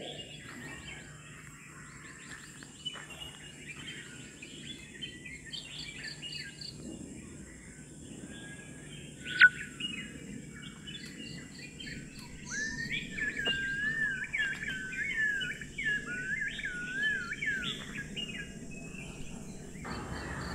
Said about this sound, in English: This orange-breasted green pigeon was videoed at Bide's homestay.